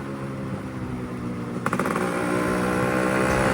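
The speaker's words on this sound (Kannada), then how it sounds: "ಇವಾಗ ರಾಜೇಶಣ್ಣ ಹೊಸ್ದಾಗಿ ಒಂದು ಮಫ್ಲರ್ ಮಾಡಿಕೊಟ್ಟವ್ರೆ. ಏನು ಸೌಂಡ್ ಬರ್ತೈತೆ ನೋಡು ಗುರು." A motorcycle engine runs through a new custom-made muffler, thrumming steadily up close, then it gets a sharp blip of throttle midway and settles into a louder, deeper rumble.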